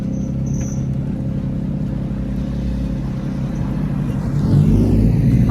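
Lotus Elise with a K-Series engine swap idling nearby with a steady low engine drone, then revving briefly near the end, with rising and falling whine.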